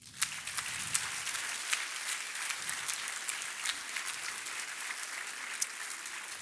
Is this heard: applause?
yes